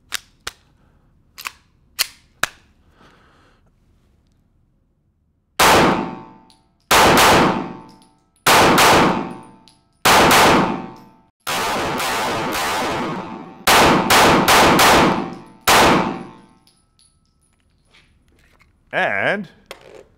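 A Glock pistol fitted with a Radian Ramjet micro compensator fires rapid strings of loud, sharp shots at steel targets, with metallic pings off the plates between bursts and a few quieter clicks and clanks before and after.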